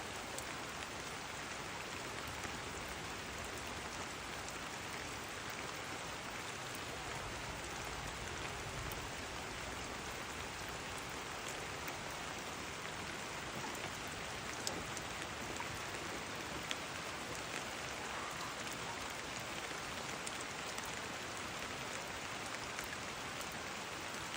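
Heavy rain pours steadily and evenly throughout, a dense continuous hiss with no breaks and no voices, heard outdoors at a traditional funeral gathering at a tongkonan house.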